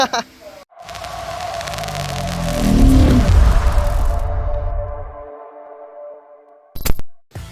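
A Kawasaki ZX25R motorcycle with a new OEM muffler revs up and its exhaust note rises to a loud peak, then settles back toward idle before cutting off.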